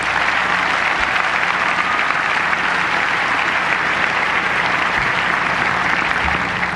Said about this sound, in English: I'd like you to give a quick round of applause to Jim Malamy, Doug Saputo, and Andy Broderick